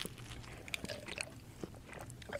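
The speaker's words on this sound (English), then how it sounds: "Like the subtitle chewing sounds." Someone is chewing pizza close to the mic, with soft irregular crunchy bites and mouth sounds, faint and without talk.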